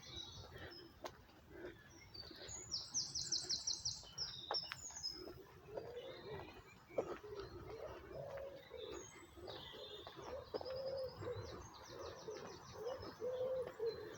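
Wood pigeons coo softly and repeatedly in the distance, with other small birds chirping over a quiet outdoor background in Werneth Park, Oldham.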